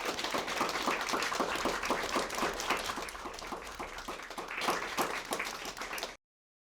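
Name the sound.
audience applause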